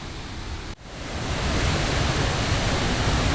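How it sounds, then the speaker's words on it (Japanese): A steady, rushing roar from Manuaba Waterfall in Bali fills the air, briefly dipping at the start before settling into a constant loud wash. "次の滝が見えてきましたよ。"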